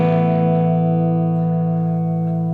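Gibson Les Paul 50s Standard electric guitar with the tone control at 5, a single sustained distorted chord ringing loud and steady with a slightly hairy edge, close and alone.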